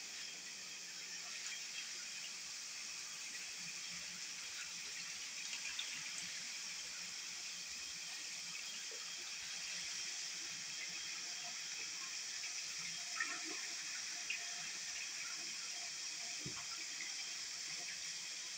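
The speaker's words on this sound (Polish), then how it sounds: "Z wody naleję." Water runs quietly from a tap into a container, a soft steady stream that continues throughout with faint background rustle and no clear talk.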